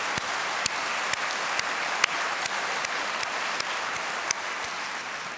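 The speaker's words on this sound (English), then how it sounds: "please applaud for that" An audience claps steadily at a Hope for Humanity program, a close, dense ovation with a few sharper individual claps standing out.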